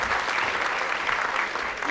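Brief, steady applause from a round-table audience at a CEVA Pro Plan veterinary panel greeting Dr. Silvia Sánchez, a dense wash of clapping at moderate level with no talk over it.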